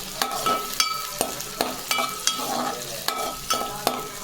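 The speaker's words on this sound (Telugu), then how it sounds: "అవి బాగా బ్రౌన్ కలర్, కొంచెం లైట్ గోల్డెన్ కలర్ వచ్చేలా ఫ్రై చేసుకుంటే బాగుంటుంది" Ingredients for a chicken curry sizzle and fry to light golden brown in a pan, with sharp scraping stirs every half second or so, steady and close.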